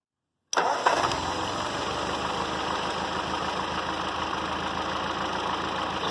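Ford 8N tractor engine cranking and catching after a moment of silence, then settling into a steady, loud, evenly pulsing idle that runs alone for several seconds.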